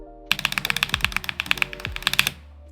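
Rapid clacky typing on an Akko Dracula DK67 mechanical keyboard with switches of a custom Star Wars build, a quick burst of about twenty crisp, close keystrokes.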